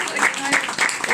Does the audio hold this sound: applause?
yes